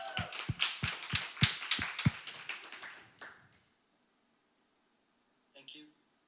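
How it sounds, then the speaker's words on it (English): A short round of hand claps for two guests at the close of an online Q&A session, close and fairly loud, in steady quick beats for about three seconds before fading into near silence. "I'd like to give you both a round of applause."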